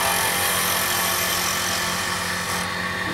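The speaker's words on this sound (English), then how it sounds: "let me turn off the other end here. You see, roll the chisel just slightly." Wood lathe spinning an inlay pen blank while a chisel cuts it, a steady whirring hum with a constant hiss of the tool on wood, close and even.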